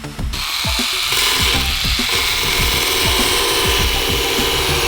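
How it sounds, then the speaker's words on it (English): A power sander grinds loudly and continuously over fiberglass filler on a drift track repair, a harsh buzzing rasp with rhythmic scraping pulses throughout and no voices. "Okay, so that's sanded down."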